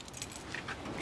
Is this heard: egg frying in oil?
no